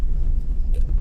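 A Toyota Rush passes on a road near Liang Melas Atas, a brief, loud rumbling whoosh of engine and tyres that swells close by and fades within a second.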